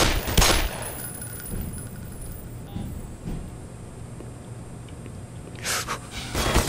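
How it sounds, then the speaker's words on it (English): Auto turret opening fire in the Black Mesa Source game, a loud burst of rapid gunfire at the start and another burst near the end, with quieter game ambience between them. "Auto turret!"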